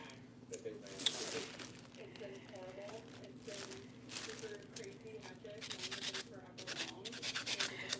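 Artificial nails being buffed with a file, a close, rough rubbing and scraping in short repeated strokes over a steady low hum, with speech at moments.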